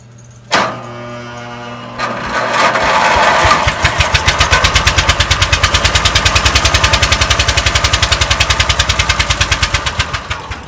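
A neglected old Lawn Chief mower engine coughs, then catches and runs after a pull start, settling into a loud, fast, even putter that stays close and steady to the end.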